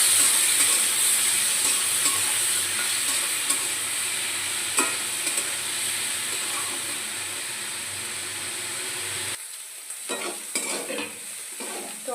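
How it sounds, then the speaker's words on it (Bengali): Salted, turmeric-seasoned food for a chira (flattened rice) breakfast is stirred while frying in a pan, with a loud, constant sizzle and hiss and scraping strokes. Near the end the sizzle drops away, leaving a few sharper scrapes. "ভালো করে নাড়িয়ে নেব।"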